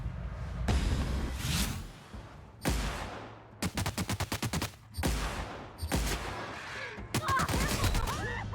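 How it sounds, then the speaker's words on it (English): Enemy gunfire from behind in The Outer Worlds, coming as loud separate bursts of rapid shots with short gaps between them. Some volleys are sharp rattling strings of shots and others are heavier single blasts that fade away. "someone shooting us from behind?"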